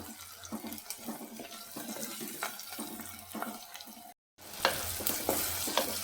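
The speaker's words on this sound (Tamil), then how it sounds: "தக்காளி கட் பண்ணி வச்சுருக்குறோம் அதை போடுறோம் தக்காளியும் வெங்காயம் நல்லா சிவந்து வரட்டும்" Tomatoes and onions frying in a pan for a peanut kuzhambu, with a steady sizzle and repeated spatula stirring strokes throughout, broken by a brief silent gap before the frying resumes slightly louder.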